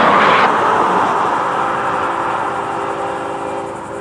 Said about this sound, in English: For FEC's 101, the morning train, we'll see them right now.